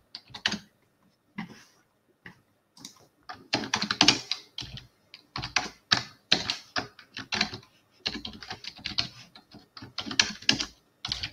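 Rapid bursts of typing on a computer keyboard, irregular clusters of close, crisp key clicks with brief pauses between runs, no voices.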